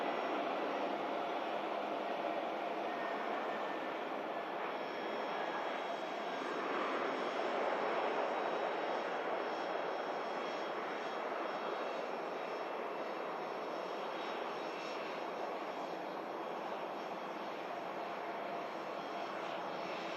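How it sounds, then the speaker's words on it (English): Pilatus PC-24 business jet taxiing out at Manchester Airport, a steady, broad engine roar and whine that holds loud and constant throughout with no voices. "Beautiful Pilatus as well on the taxi out here"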